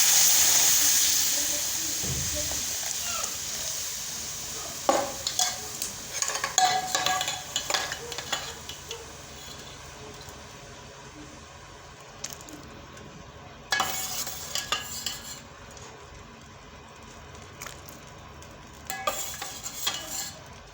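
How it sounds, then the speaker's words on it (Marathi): Drumstick pods tossed into a hot pan for a home-style curry, with close scraping stir strokes and a steady frying sizzle and hiss beneath, occasional clatter of the spoon against the pan. "आता आपण हे शेंगा टाकून घेऊ"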